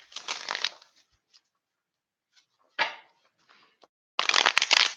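Playing cards being shuffled up close, several crisp riffling bursts separated by brief pauses, with a few soft taps in between.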